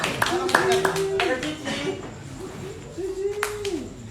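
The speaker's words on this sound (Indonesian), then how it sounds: "Kita berikan tepuk tangan untuk Milky dan Cici." A few scattered audience claps at a theatre discussion event come through as brief, sharp hits mixed into a man's nearby speech, which dominates the clip.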